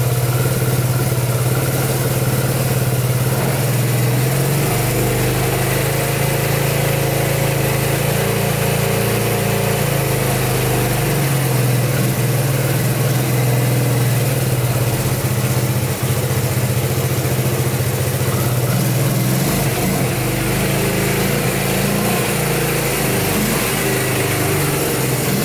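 Engine of a Yamaha Breeze ATV, revived after being abandoned, running continuously as a steady, close buzzing drone with slight rises and dips in pitch and no talking.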